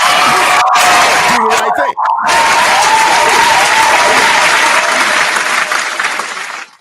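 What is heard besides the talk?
audience round of applause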